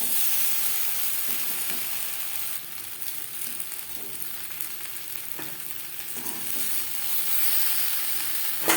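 Potato and pointed gourd frying in a pan, a steady close sizzle with occasional stirring scrapes throughout, no voices.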